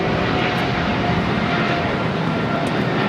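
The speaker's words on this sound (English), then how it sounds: "This is United Airlines 1704 taking off to Newark on a 777-200 ER" United Airlines Boeing 777-200ER taking off at LAX, a loud continuous jet engine roar filling the whole stretch without letup.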